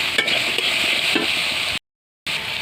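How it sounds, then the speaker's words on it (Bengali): Soybean and potato curry with spices being sautéed in a pan: a steady, close sizzle with occasional stirring scrapes, briefly cutting out before resuming. "নিয়ে আবারও ভালোভাবে কষিয়ে নেব।"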